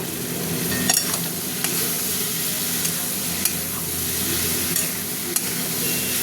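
Fried prawns go into a hot pan of oil with aubergine and potato for a curry, a loud continuous sizzle with occasional stirring clinks and scrapes, no voices.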